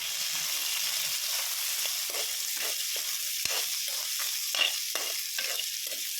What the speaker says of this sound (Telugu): జస్ట్ ఇట్లా షాలో ఫ్రై చేస్తాను